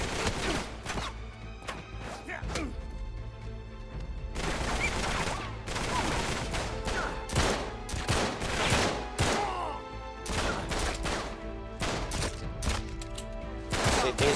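AK-style rifle fire in Uncharted 3: Drake's Deception, loud repeated bursts and single cracks throughout, with game crashes and impacts mixed in.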